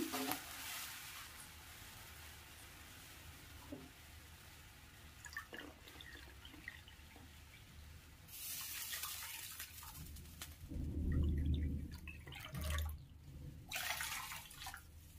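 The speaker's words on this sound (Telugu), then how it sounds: "అదే పాన్లో ఇప్పుడు 3 కప్పులు నీళ్లు వేసుకోవాలి" Water is poured into a pan on a stove for semolina kesari, a fairly quiet splashing and trickling that swells into fuller gushes toward the end, with scattered small clinks and drips; no one speaks.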